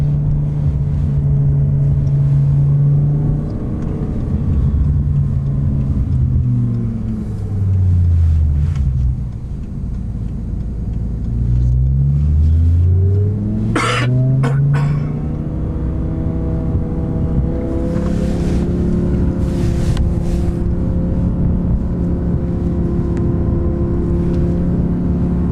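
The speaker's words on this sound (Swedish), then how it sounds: "Keller's M5 versus Ferrari F430" A BMW M5 with a V10 engine races a Ferrari F430 from a rolling 50 km/h, engines droning loudly and climbing in pitch through the gears, with one car sweeping past at mid-run before the roar settles into a sustained high-revving howl.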